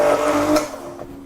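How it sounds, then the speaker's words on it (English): A hand blender purees cooked pumpkin with a short, loud whirring buzz that fades as the motor winds down. "we can puree it with a hand blender"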